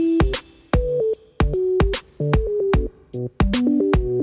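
A synthesized keys part plays short, bright chords and stabs in a bouncy, syncopated rhythm, clear and alone with no voices over it.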